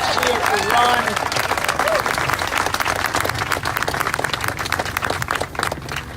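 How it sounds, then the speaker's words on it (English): A crowd at an outdoor waterfront rally cheers and applauds, dense clapping mixed with whoops and shouts, steady and fairly loud, with voices calling out over the noise. "Please give a cheer for Ron"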